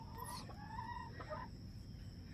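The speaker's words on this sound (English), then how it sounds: "Oh, my chickens came to say hi." Backyard chickens cluck and call nearby, a few short rising notes and a drawn-out squawk over a quiet outdoor background, with no talking.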